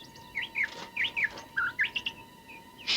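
A bird chirps in a rapid run of short, bright tweets and trills, fairly close and alone, with no voices over it.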